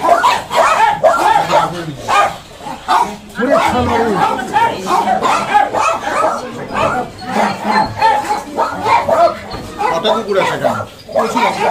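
Several dogs bark and yip repeatedly, close by, mixed with people talking and general chatter.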